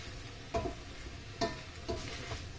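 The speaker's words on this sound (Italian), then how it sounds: "Ho già messo a soffriggere la carne con sedano, carote e cipolle." Minced pork sautés with celery, carrots and onions for a classic Bolognese ragù, a soft steady sizzle broken by three distinct scraping stirs of a spoon in the pan, close and without talk.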